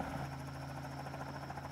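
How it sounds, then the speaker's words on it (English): A steady, droning helicopter rotor and engine hum in Roblox Mad City, fairly faint and continuous, with no voices over it. "Helicopter!"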